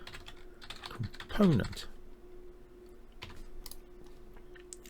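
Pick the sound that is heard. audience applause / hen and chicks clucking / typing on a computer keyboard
typing on a computer keyboard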